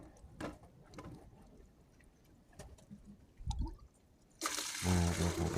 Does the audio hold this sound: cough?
no